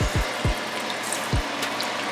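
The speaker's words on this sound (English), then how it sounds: "I'm going to also add in some water" Water poured into a pot of chicken adobo, a steady soft trickling stream with a few low splashy pulses, close and alone.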